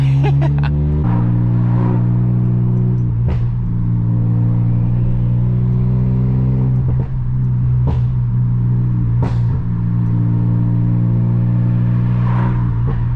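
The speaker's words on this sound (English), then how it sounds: "I'm doing like 20 miles per hour and all you hear is bam, bam." A 500bhp VW Golf R at low speed over its steady engine drone, with several sharp exhaust bangs cracking out at irregular intervals, loud and close, with no voices.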